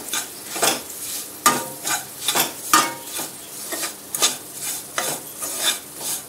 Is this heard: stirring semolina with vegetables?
yes